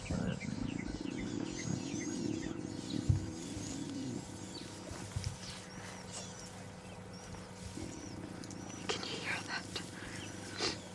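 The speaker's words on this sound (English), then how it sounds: "It was a mixture of Lauren sneezing and the lion cubbies getting vocal" Lion cubs vocalizing in thicket at a game reserve, low rumbling grunts and moans mixed with a person sneezing, amid birdsong and insect chirps outdoors; rumbles loud early, quieter later.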